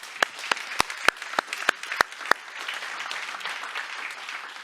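Sparse claps ring out from a small audience at a closing conference session, a handful of sharp separate hand claps that fade into scattered, quieter clapping and room noise.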